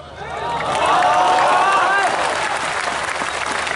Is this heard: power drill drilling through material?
no